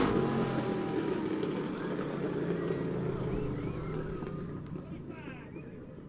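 Race cars coming off turns 3 and 4 at Monett Motor Speedway in the final feature race of the night rumble in the background, a sustained engine drone beneath a loud announcer's voice, fading slightly toward the end.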